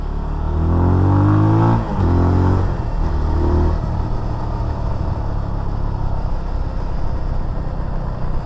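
A 2023 Benelli TNT 25 single-cylinder 250 cc motorcycle engine revs up through rising gears on a test ride, loud and close, then settles into a steady rough drone with wind rush.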